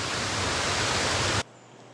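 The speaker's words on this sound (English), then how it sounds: "And this is a really cool waterfall." A waterfall on a stream near Murlough Bay rushes as a loud, close, steady broadband roar that cuts off abruptly near the end.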